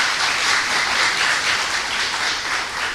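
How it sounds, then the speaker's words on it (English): A hall audience applauds teachers at an International Women's Day awards event, a dense, steady wash of clapping that holds evenly for a few seconds. "let's give our teachers a round of applause"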